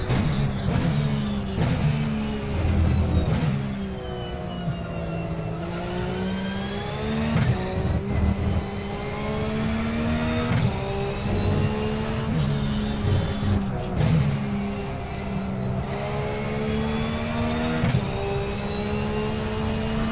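A Ruf Cup race car with a boxer engine screams around Virginia International Raceway in the sim racing game Automobilista, loud and continuous, its pitch climbing and falling through repeated upshifts and downshifts with no talking.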